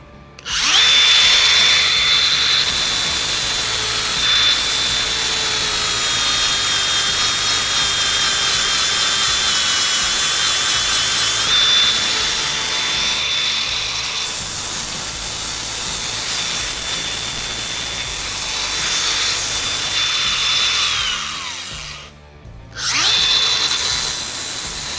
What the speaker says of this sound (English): I'll grind this, I'll re-tack that